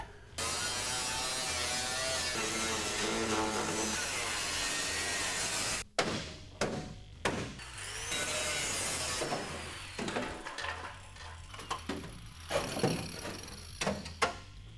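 A loud continuous power-tool whine grinds through a car's metal floor pan for several seconds, then stops and gives way to shorter intermittent cutting bursts and clanks.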